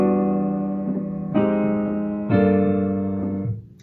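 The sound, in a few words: jazz guide tones played on minor chords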